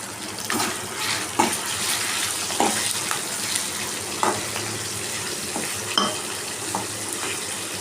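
Steady sizzling and spattering of chicken frying in a pan, with occasional louder pops and stirring clatter, close by and continuous.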